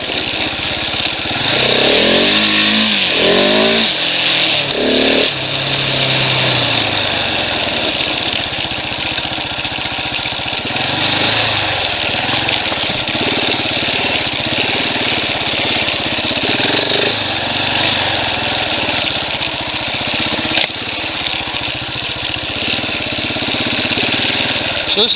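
A 2017 Husqvarna 701 Enduro motorcycle engine roars loudly and continuously from close range, with some revving early on, then settles into a steady, gritty cruising drone mixed with wind rush.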